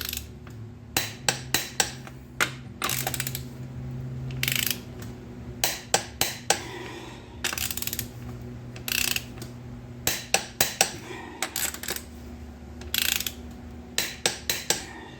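A ratchet tightens the wheel lug nuts on a 2003 Dodge RAM 3500 dually in quick bursts of close, sharp clicking, with short pauses between sets as each nut is cranked down.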